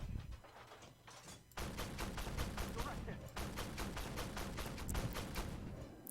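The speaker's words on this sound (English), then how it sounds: "So I don't really like the semi-automatic cannon." A semi-automatic cannon fires in the Armoured Warfare tank game: a dense, rapid run of heavy booming shots that starts abruptly, breaks briefly, then continues loudly over constant battlefield rumble.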